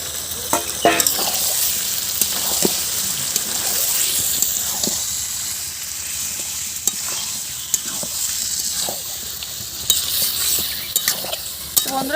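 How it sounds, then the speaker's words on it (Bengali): Marinated chicken pieces sizzle steadily in hot spiced oil for a village-style Indian chicken curry, a loud continuous frying hiss close up, punctuated by clinks and scrapes of a spoon stirring the pot. "এখন আমরা যে মাংসটা মাখিয়ে রেখেছিলাম সেই মাংসগুলো দিয়ে দেব।"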